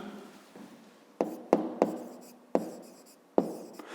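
A pen writes by hand on paper while working a fifth-grade math exercise, soft scratching broken by several sharp taps and strokes, close and quiet with no talk.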